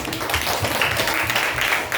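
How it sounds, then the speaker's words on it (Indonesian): A classroom group claps steadily in dense, continuous applause that fills the whole moment, with some faint voices mixed in. "kelompok 4 tepuk tangan"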